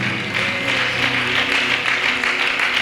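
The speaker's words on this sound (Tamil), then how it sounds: "நல்ல கைத்தட்டி கர்த்தருக்கு மகிமை செலுத்தலாம்" Congregation in church clapping hands together, a steady continuous wash of applause from many people, fairly loud and close, filling the room.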